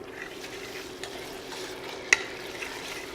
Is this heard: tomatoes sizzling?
yes